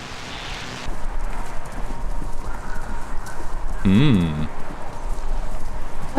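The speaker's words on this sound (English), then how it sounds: "Sounds like horses. Horses running?" Horses running with steady clip-clop hoofbeats, broadcast over a radio station in the video game Kentucky Route Zero, heard against a constant hiss with a brief tonal sound partway through.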